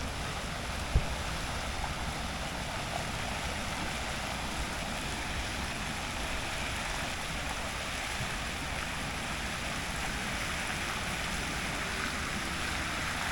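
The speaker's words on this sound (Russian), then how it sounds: "Знаете, какая красота и шумение воды." Continuous rushing water, a dense even roar like a nearby stream or waterfall, steady throughout with one brief knock near the start.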